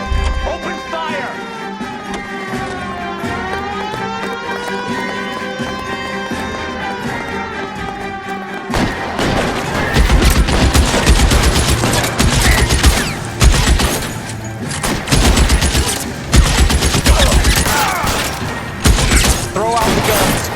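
Heavy gunfire erupts in an L.A. Noire shootout, with dense rapid bursts and booming shots that suddenly take over after a stretch of orchestral music, continuing loud and nearly constant to the end.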